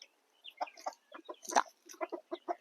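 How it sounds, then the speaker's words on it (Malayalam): A backyard rooster clucks in a run of short, close, clear bursts, with quiet gaps between the calls. "ഇതാണ് നമ്മുടെ ഒരു കോഴിപ്പൂവൻ"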